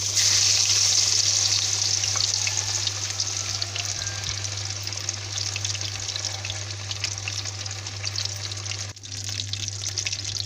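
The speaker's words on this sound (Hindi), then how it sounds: "घी हमारा गर्म हो गया है। अब हम इस पर डालेंगे मछली।" Fish pieces frying in about a quarter kilo of hot ghee in a kadai for a Lahori masala fish fry, a loud continuous sizzle with bright crackle that dips briefly near the end, no voices.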